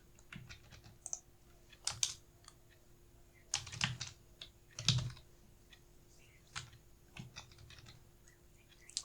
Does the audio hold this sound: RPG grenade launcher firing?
no